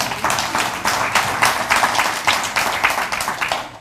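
Audience applause at a political talk by Congressman Darrell Issa, a steady, dense clapping from a room full of listeners, fairly close and sustained with slight swells, no voices over it.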